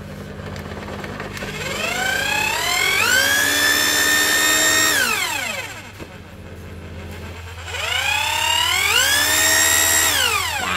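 A used Japanese 100-volt power drill, dusty with oil, runs in reverse: it whines up to speed, holds a high tone for a couple of seconds, winds down, then spins up again, close and loud with no talking.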